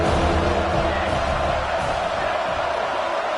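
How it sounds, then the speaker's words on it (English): Alabama Crimson Tide fans roar in a college football stadium on third down at Saban Field, a dense, loud, steady crowd din of cheering and shouting that holds for the whole stretch. "The Tide crowd rolling noise down onto Saban Field on third down"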